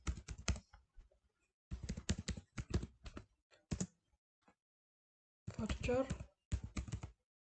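Bursts of rapid clicking on a computer keyboard while entering data, clustered in several quick runs separated by pauses, close and crisp, with a person speaking briefly between them.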